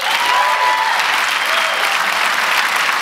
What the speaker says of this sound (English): Huge round of applause for our speakers again today.